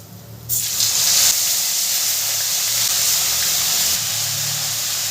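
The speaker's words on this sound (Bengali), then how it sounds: "ফুলকপিটাকে ভালো করে ভেজে নেব।" Cauliflower frying in hot oil in a pan, just after the fish was fried in it: a loud, steady hiss and sizzle that bursts in suddenly and keeps going evenly, close up, with no voices.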